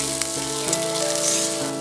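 Onion, carrot and green chili fry in hot oil for a pasta dish, giving a steady close sizzle with soft crackles throughout and a faint background hum.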